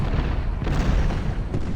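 Cannon artillery fire in the Civil War strategy game Ultimate General at the Battle of Stones River, a dense, continuous low rumble of booming shots blending into a heavy roar, loud and without speech.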